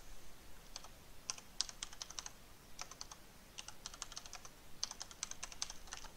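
Computer keyboard typing in quick bursts of light, crisp key clicks separated by short pauses, close and fairly quiet in a still room.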